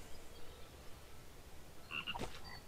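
A frog in the video game Toki Tori 2 gives one short, chirpy croak near the end over a quiet background hum.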